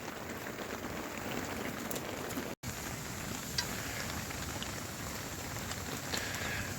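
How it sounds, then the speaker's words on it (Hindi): Heavy rain pours steadily onto surfaces nearby in the Himalayas, a dense continuous hiss with scattered drips, briefly cutting out for an instant midway. "भाई तगड़े वाली बारिश चल रही है ना"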